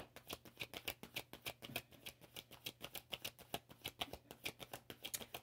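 Tarot cards being shuffled by hand on a table, a fast run of crisp, evenly spaced riffling flicks, close and fairly quiet, with no talking over it.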